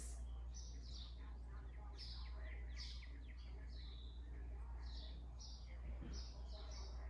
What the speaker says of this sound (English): I have my window open and the birds chirping